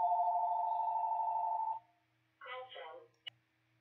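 A telephone rings with a single steady electronic tone lasting nearly two seconds, then falls silent before a brief murmur of voice and a sharp click.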